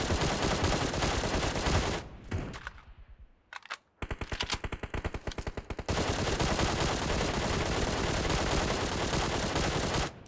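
QBZ rifle fire in PUBG Mobile comes in long, loud automatic bursts, with a short gap of single and stuttering shots in the middle before sustained firing resumes.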